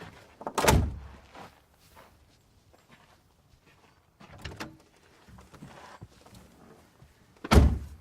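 A car door latch clicks and the door thunks open as someone exits the vehicle, followed by shuffling movement and a second loud door thud near the end.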